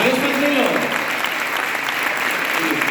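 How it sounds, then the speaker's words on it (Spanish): An audience applauds a person at a book presentation, with loud, dense clapping throughout while a voice speaks briefly over it near the start. "un aplauso para esa persona"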